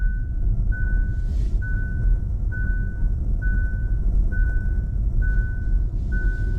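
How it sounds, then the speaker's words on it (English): A Kia EV6 sounds its warning beeps near the car in front: a loud, evenly spaced series of about eight electronic tones over a low road rumble. "It's starting to beep a little loudly, not happy."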